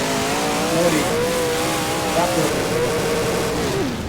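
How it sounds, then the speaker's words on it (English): A race car in the rFactor racing sim revs and accelerates steadily for about four seconds, its engine pitch rising and falling through gear changes, with a voice talking over it. "Hit start, rev it up"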